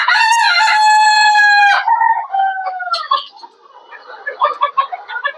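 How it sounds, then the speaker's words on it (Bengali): Roosters on a rooftop poultry farm crowing loudly and close, one long drawn-out crow followed by shorter crows and scattered clucking from the flock. "সবই হলো মোরগ, ওই পাশে যেগুলো আছে দেখতে পারবেন"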